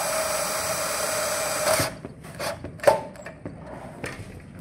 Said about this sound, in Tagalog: Then screw lang po natin.